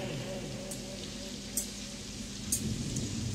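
Steady rain falls with a constant hiss and patter, and a few brighter drip ticks stand out now and then.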